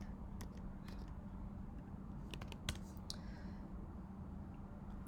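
Typing code on a computer keyboard: steady, quiet key clicks in uneven bursts over a low constant background hum, with no voice.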